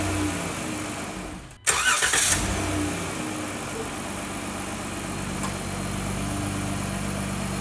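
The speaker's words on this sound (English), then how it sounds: "What I'm gonna do now is I'm gonna start the car." A car engine cranks briefly and catches, then settles into a steady idle that runs on, close and clear with no talking.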